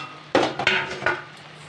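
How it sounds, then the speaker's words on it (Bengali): A lid set onto a cooking pot of jackfruit curry, three quick metallic clanks in close succession, loud and near, with a short ringing tail and no talk. "তো চলো বন্ধুরা, এটিকে একটু ঢাকা দিয়ে দিই।"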